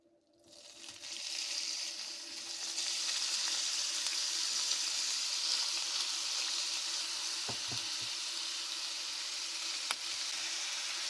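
Ground beef for chili paste hits a lightly oiled pan and settles into a steady, loud sizzle that builds in the first seconds and holds, with a brief utensil knock midway.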